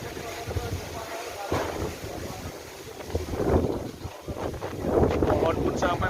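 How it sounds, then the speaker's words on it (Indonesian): A strong storm wind roars steadily outdoors among oil palm trees, blustering against the microphone in loud surges, with someone speaking through it. "Angin kuat ya lur ya."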